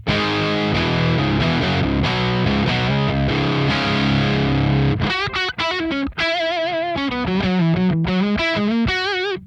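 Electric guitar through a Revv Generator 100R MKIII amp on channel 2 in drive mode 1 gives a loud, saturated distorted tone: thick chugging chords first, then sustained singing lead notes with bends, played alone without talk.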